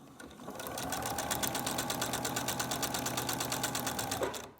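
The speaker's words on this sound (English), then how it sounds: "and you start sewing" A sewing machine runs steadily while stitching a paper-pieced log cabin quilt block, a rapid even chatter of needle strokes held for about four seconds before it stops.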